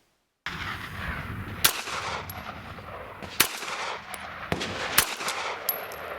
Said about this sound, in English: Man, what a nice handgun it is to shoot.